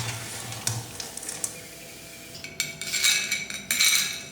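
Fried jackfruit kondattam lifted out of hot oil onto a plate, heard as close metallic clinks and scrapes of utensils in scattered bursts, with faint oil sizzle underneath and no talking.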